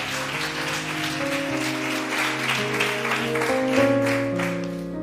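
Worshippers at a bilingual Spanish-French evangelical church service clap loudly for the Lord over sustained keyboard chords, a steady, full round of applause lasting several seconds.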